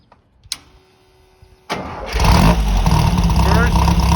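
A 1964 Formcar Formula Vee racer fires up in a garage: a couple of sharp clicks, then a starter crank catches and the engine roars into a loud, rough, steady idle close by.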